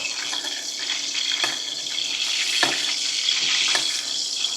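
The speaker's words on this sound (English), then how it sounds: "I'm going to cook that for a couple of minutes on each side, just until you've got some browning on there" Pork tenderloin browns in hot oil in a pan, a bright steady sizzle with several short crackling bursts as the meat is turned and basted, close and loud with no talking.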